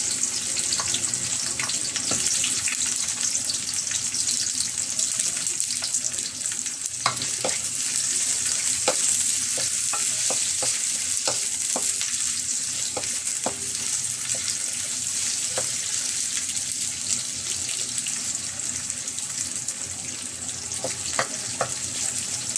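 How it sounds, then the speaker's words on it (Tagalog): Chopped white onion and ginger sautéing in a pan for a Filipino chicken chop suey, a steady loud sizzle with frequent sharp ticks and spatula scrapes running throughout. "Pula-pulahin natin ang konti itong ating sibuyas. Pati itong luya."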